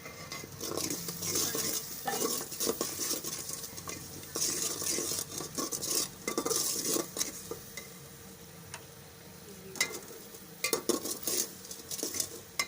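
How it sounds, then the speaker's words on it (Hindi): A spoon scrapes and stirs daliya with salt and chili roasting in a metal pan, uneven clinks and scrapes in bursts over a light sizzle, close, with quiet gaps between strokes. "इसे हम 2 मिनट तक भून लेंगे।"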